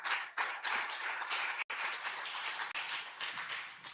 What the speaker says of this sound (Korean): 우리 찬양팀을 위해 다시 격려의 박수하겠습니다.